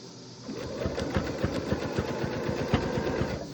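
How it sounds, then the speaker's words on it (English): A sewing machine runs steadily as it stitches a round jellyroll fabric rug, its needle chattering in a fast, even rhythm up close, with no voices. "just let the machine do the sewing"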